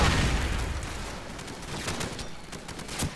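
Rapid bursts of gunfire rattle in a Call of Duty 4: Modern Warfare firefight, loud at first and fading into scattered shots with a sharper crack near the end.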